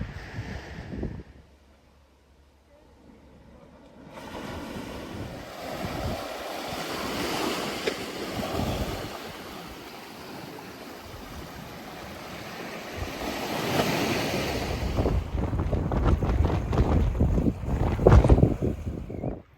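Sea waves wash and break on a private beach shore, a continuous surging roar with heavy wind buffeting the microphone, quieter at first and swelling louder toward the end, no voices.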